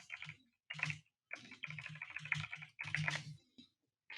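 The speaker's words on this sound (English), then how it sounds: "Loud ass keyboard. It's actually fairly quiet. It's not a clicky one." Typing on a fairly quiet, non-clicky membrane computer keyboard, with bursts of soft keystrokes coming in uneven runs and short pauses between them, close and alone.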